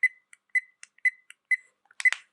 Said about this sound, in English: Then I have a beep sound.